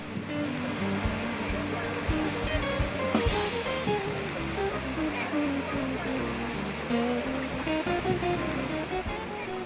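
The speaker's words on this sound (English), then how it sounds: "Two major waterfalls were up next" An Icelandic waterfall roars as a steady, broad rush of falling water, with a voice speaking over it part of the time.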